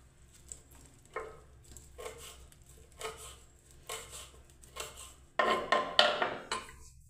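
A knife cutting curry leaves on a board, with several soft separate cuts, then a louder cluster of clattering strokes near the end, fairly close and quiet.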